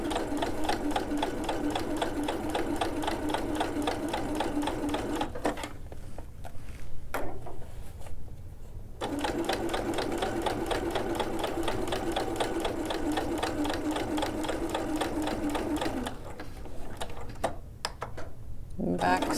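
A sewing machine stitches a welt pocket in fast, rhythmic bursts, whirring close by, stopping briefly twice for backstitching and pin removal before resuming its steady chatter.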